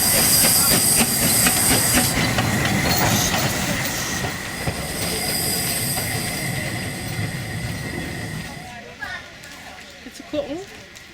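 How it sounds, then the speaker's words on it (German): Museum railway locomotive running around its train at Asendorf station on the Bruchhausen-Vilsen line: steady rolling wheel noise with clicking rail joints and high squealing, fading toward the end as people talk nearby. "Asendorf ist erreicht und es folgt das übliche Umsetzen der Lok."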